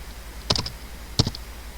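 Two crisp key presses on a computer keyboard, Enter struck after entering a command, each a sharp close click about three quarters of a second apart over a faint steady background hum.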